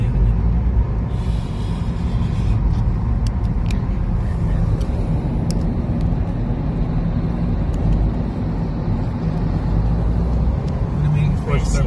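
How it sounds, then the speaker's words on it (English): A car travelling fast along a Japanese expressway while trailing a sports car, a dense, constant rush of road and wind noise filling the cabin as people chat over it. "We're trailing a sports car at the expressway."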